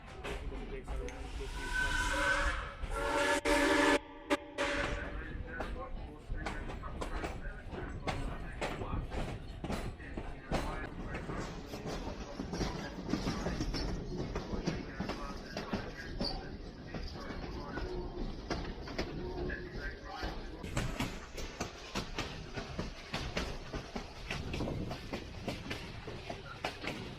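Cockle Train running near Victor Harbor, South Australia, heard from on board as a continuous rumble and rattle of railway carriages with a loud burst of noise early on, with birds calling and voices talking faintly at times.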